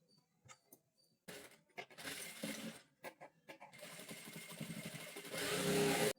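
A sewing machine stitches a blouse neck in bursts of dense mechanical whirring, broken by short pauses with small clicks. The longest run comes at the end and is loud and close.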